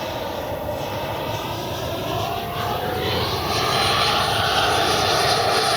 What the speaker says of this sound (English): Time I'm gonna take it up right off the bat.